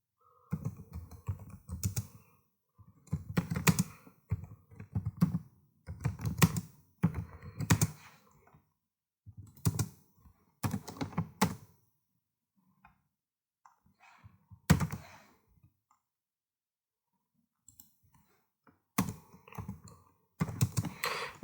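Typing on a computer keyboard, irregular clusters of close, crisp key clicks and thunks separated by short pauses, with no voices.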